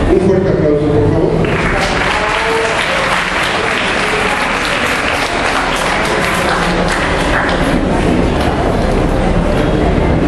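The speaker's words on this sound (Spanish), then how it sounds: "Un fuerte aplauso, por favor." Strong, sustained audience applause at an autism event, a loud, dense roar of many clapping hands with crowd noise continuing at full level throughout.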